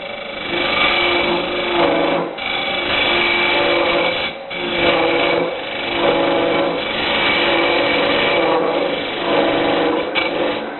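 A cutter tool working wood on a lathe, turning a travel mug blank that is not running true, gives a steady, loud whirring grind with rough scraping texture and brief dips in rhythm, close by and without talk.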